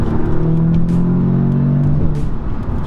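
A 2017 Audi S3 engine revs up loudly and holds a rising, steady drone from inside the car, with throttle pulses before easing back, no talk.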